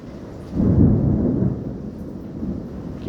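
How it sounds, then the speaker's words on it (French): Rain falls steadily through a strong summer thunderstorm while a deep roll of thunder swells early on and fades into a lingering rumble, with no voices. "C'est la pluie ça que j'entends?"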